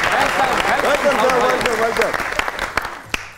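A studio audience at a television comedy talk show claps in a loud, dense burst of applause that thins out toward the end, with a host's voice over the start.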